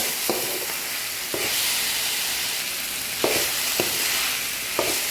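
Chicken and hotdog fry in a pan for Ilonggo-style arroz valenciana, giving a steady broadband sizzle with a few sharp utensil stirring knocks spaced through it, close and fairly loud, with no talking.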